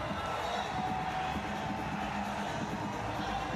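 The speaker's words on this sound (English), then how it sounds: "The crowd celebrating." Crowd celebrating India's goal against Canada at the Men's Hockey Junior World Cup in Lucknow: a sustained, distant roar of cheering spectators across an open stadium, steady in level throughout.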